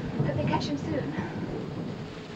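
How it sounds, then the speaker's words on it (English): A thunderstorm begins at night with a dull rumble of thunder and a steady wash of rain, both continuous and fairly loud behind faint voices in a film scene. "There's the storm starting."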